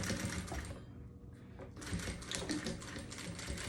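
Sewing machine running a short reverse backstitch to lock the end of a seam on a pet backpack, a steady loud mechanical whir with a brief pause midway before the stitching resumes.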